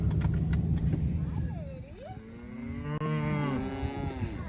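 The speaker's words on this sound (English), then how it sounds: "We're going to move the cattle" Cattle lowing as a farm herd is moved to the next field, a long drawn-out moo rising and falling over low engine-like rumble, fairly close.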